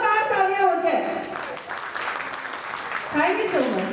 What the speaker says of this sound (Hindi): शिवशंकर जी के लिए बस जोरदार तालियां होंगी